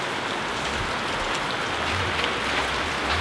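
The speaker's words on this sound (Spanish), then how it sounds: "Pero la lluvia está quedando fuerte y no le está pegando nada de agua." Heavy rain falls steadily outdoors near a DJ setup, a dense, even hiss that stays loud throughout with no voices.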